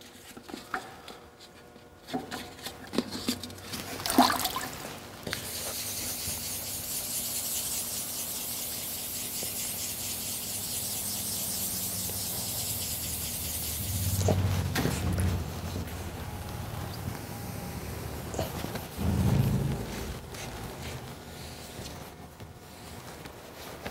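A touch-up spot being hand-sanded with 1500-grit sandpaper makes a steady rubbing hiss that lasts several seconds, framed by a few handling knocks and bumps, with no one talking.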